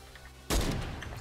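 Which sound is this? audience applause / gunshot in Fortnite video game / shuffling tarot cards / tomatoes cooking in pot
gunshot in Fortnite video game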